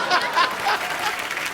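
Studio audience at a comedy show applauds, a short burst of dense clapping with some crowd chatter, fairly loud and close.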